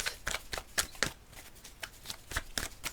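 Tarot cards being shuffled and drawn, a run of crisp riffling snaps and soft slides in an uneven rhythm, close and clear with no voice over them.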